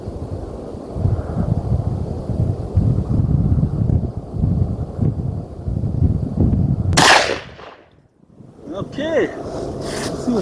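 A single sharp rifle shot from a Ruger No. 1 chambered in .45-120 cracks out near the end, outdoors, after several seconds of wind and low rumble, with a brief lull following the blast.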